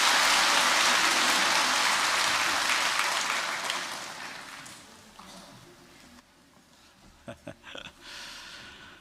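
A church congregation claps to bless a child at a Sunday worship service, loud dense applause that tapers off over several seconds, followed by a quieter room with a few scattered sounds and brief talk.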